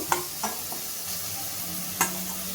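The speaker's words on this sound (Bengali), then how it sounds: "এবার আমি মশলাটাকে ভালোভাবে কষিয়ে নেব" Spice paste and fried potatoes for a rohu fish curry sizzle in a pan, a continuous frying hiss punctuated by a few sharp spatula scrapes and knocks, close and without speech.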